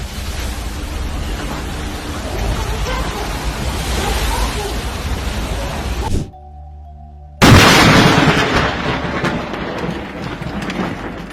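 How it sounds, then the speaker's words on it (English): Storm waves pound a ferry off the German coast, a loud, continuous roar of surf and crashing water with booming impacts, briefly dropping to a low hum before a sudden heavy crash returns at full force. "the waves off the coast of Germany kept pounding it relentlessly"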